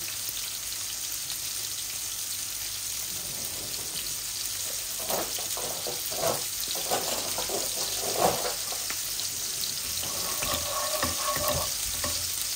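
Garlic and cumin seeds fry in hot oil for a Bangladeshi hilsa and greens dish, giving a steady close sizzle with bursts of spatula stirring and scraping through the middle and end.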